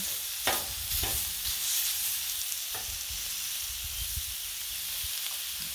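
Pork frying on a Blackstone griddle while a spatula breaks it up, a constant hiss of sizzling fat with a few sharp metallic scrapes and taps near the start and middle.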